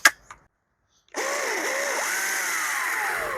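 An Ego 20-inch commercial battery chainsaw fitted with an 8 Ah battery starts with a sharp rising whine and cuts into wood at a high steady pitch that dips slightly under load, close and loud after a couple of brief clicks.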